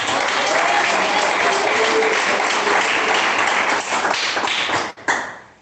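A church congregation applauds during a sermon with loud, sustained clapping that fills the space. It thins near the end, breaks off in a sudden short gap, and then picks up again.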